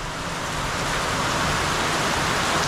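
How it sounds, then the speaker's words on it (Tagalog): Heavy rain pours down in a dense, steady hiss that stays loud and unbroken throughout, with no voices over it. "Ang lakas pa rin ng ulan."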